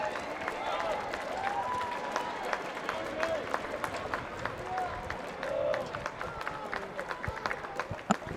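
Crowd applauding rugby players after the U19 Asia Rugby Championship final between Chinese Taipei and Korea, scattered sustained clapping from the stands beneath a commentator's talk.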